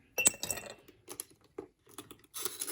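Ice cubes from an ice cube tray clink and clatter into a measuring container in a kitchen, a few uneven bursts of bright tapping and rattling, fairly close, with no talking.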